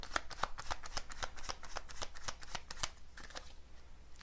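Tarot cards shuffle in quick, riffling flicks, a rapid run of crisp close-up snaps at a steady rhythm, heard alone.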